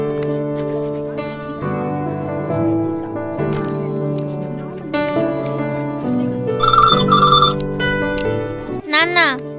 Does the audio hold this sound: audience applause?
no